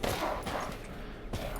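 Rapid bursts of gunfire in the horror game Resident Evil Village, loud and dense from start to finish, with a sharp extra shot near the end.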